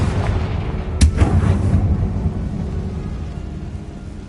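Confringo fire spell blasts in the video game Hogwarts Legacy: a sharp booming explosion about a second in, followed by a rumbling low roar that slowly fades.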